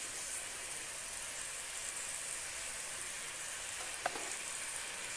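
Chicken karahi sizzles steadily in a pan on a home stove, a constant close frying hiss with one brief clink of stirring partway through.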